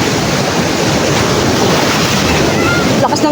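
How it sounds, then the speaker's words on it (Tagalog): Strong sea waves surge at the shore where a fisherman casts a line, a loud, continuous roaring wash of surf with wind buffeting the microphone. "Malakas pa ang alon."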